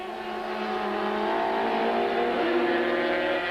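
Onboard engine note of the Rothmans Audi touring car racing at Kyalami: a loud, sustained high-revving drone that climbs and shifts pitch through gears, with other race cars nearby.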